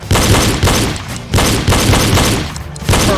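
Pistol shots fired on a range during a reload drill come in quick loud bursts of several cracks, broken by short pauses, close and sharp with no voices over them.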